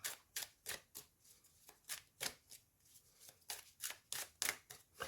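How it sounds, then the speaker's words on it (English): Rapid riffling bursts of a deck of cards being shuffled, close and repeated in quick succession. "It's probably why it's making me shuffle the heck out of these cards."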